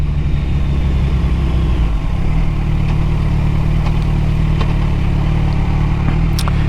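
Engine of a 2022 Suzuki Hayabusa motorcycle held in fourth gear, a loud steady mid-pitched drone that shifts to a slightly different tone about two seconds in and then holds even, close to the microphone with wind noise.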